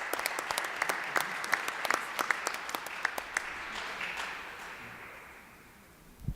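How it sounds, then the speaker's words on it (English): Audience applause for panel speakers at a clean energy jobs discussion builds into a full round of clapping, then thins and fades away toward the end. "Let's give our speakers a round of applause."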